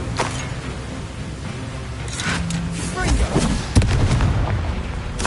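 Confringo fire-blast spell cast in Hogwarts Legacy bursts out amid ongoing game combat noise, with sharp booming impacts, one especially punchy near the end, over a steady layer of action sounds.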